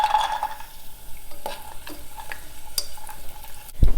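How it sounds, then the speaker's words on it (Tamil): Raisins and cashews fry in oil in a pan for rava payasam, a soft crackling sizzle with scattered clicks and stirring scrapes, close and steady, ending in a sharp knock. "இப்போ திராட்சையும் முந்திரியும் நல்லா வறுபட்டுருச்சு."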